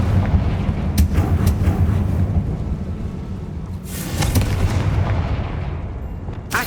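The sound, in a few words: Confringo fire spell explosions, Hogwarts Legacy video game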